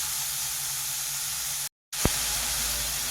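Onions sizzle in a pan with a little salt, a steady bright frying hiss that briefly cuts out and resumes with a small pop.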